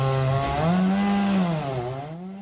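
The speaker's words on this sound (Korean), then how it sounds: "작업자들이 전기톱으로 큰 나무들을 잘라냅니다" A loud electric chainsaw cutting large plane and tulip trees along a busy city roadside, a steady close buzzing drone whose pitch dips and rises as the blade bites into the wood.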